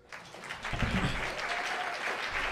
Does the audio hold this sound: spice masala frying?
no